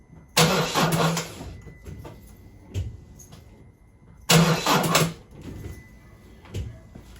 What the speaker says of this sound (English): It took a couple of turns of the starting motor.